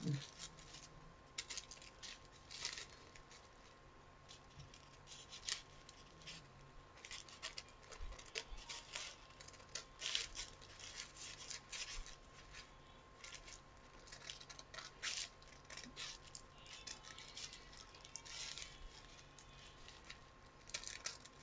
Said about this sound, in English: I'm just going to go through and cut off the excess tissue paper I'm not using.